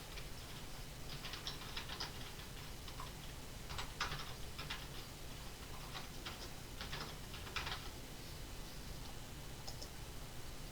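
Clusters of quick, light key clicks as names are typed on a computer keyboard, coming in short bursts with gaps, fairly close and soft over a low steady background hum.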